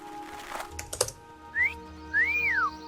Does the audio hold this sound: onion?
no